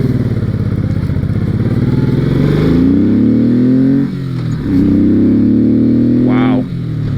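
A heavy Honda VTX1800R cruiser motorcycle rumbles loudly up close, its engine rising in pitch through several acceleration pulls with short dips between, joined by a faint rising whine near the end.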